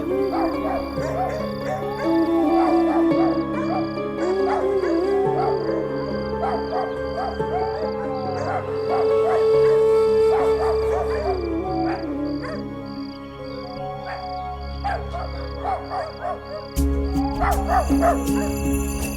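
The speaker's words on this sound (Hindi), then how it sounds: "ये सारे कुत्ते एक साथ रो क्यों रहे हैं?" Several dogs howl and bay together in long, wavering cries, overlapping at moderate distance against a constant background tone, with a sudden louder burst near the end.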